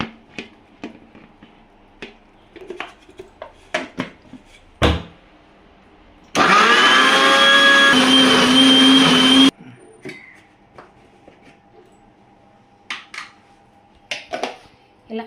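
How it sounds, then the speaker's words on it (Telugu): A mixer grinder blending mango pieces into pulp roars loud and steady for about three seconds in the middle, with scattered kitchen clinks and taps before and after it. "ఇలా మెత్తగా మిక్సీ పట్టుకొని"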